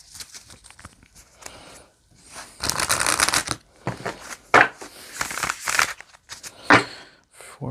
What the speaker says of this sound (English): Let's go ahead and grab some Moonology cards to get some extra clarification here.